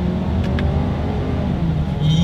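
A 2020 Ford Edge SUV engine pulls steadily in paddle shift mode, a close, continuous cabin rumble and whir with a slight rise near the end and no talk over it.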